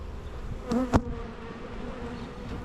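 A close honeybee buzzes past a hive being opened, with a quick sharp swell of droning, over a low continuous hum of many agitated bees.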